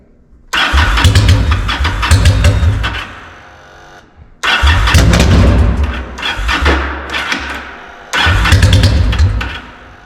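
A Yamaha V-Star motorcycle engine cranks three times in loud, close bursts of several seconds each with pauses between, churning without catching.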